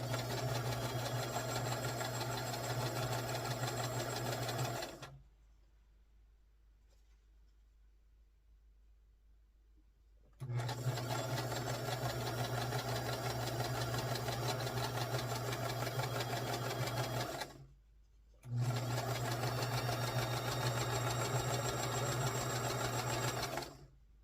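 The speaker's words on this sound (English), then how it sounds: "Be very careful when you sew this down" Sewing machine stitching down a large bias-cut fabric triangle for a quilt block, running steadily in three bursts with a steady hum, stopping for a few seconds of near silence between runs.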